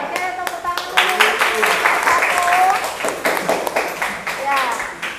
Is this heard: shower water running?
no